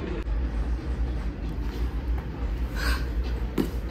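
A passing train rumbles steadily at a moderate distance, a low continuous roar with faint wheel and rail noise throughout, no voices over it.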